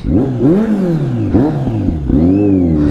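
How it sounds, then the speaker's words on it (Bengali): A superbike engine revs repeatedly and close by in heavy snowfall on Sela Pass, Arunachal, with rising and falling pitch over a few seconds. "বরফের ভেতরে লাইফে ফার্স্ট টাইম সুপার বাইক চালাবো আমি।"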